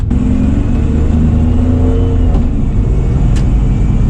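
A car engine runs steadily after a transmission repair that targeted a transmission leak and the torque converter lockup on an adaptive transmission; a loud, continuous low rumble and whir, close by, with no voices.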